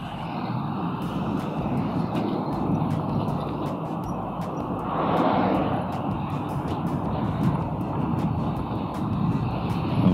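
An NWOW WSP electric motorcycle on new quick tires accelerates at full throttle, giving a steady rushing whine over wind noise that swells briefly midway and holds at an even loudness throughout.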